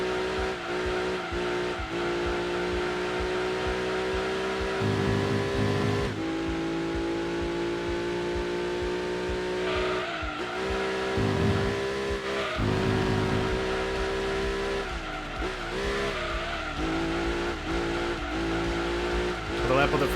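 Race car engine in Gran Turismo 2, a car with over 500 brake horsepower and under a ton of weight, holds a sustained high whine that rises and falls through gear changes, with tire squeal and someone talking over it throughout.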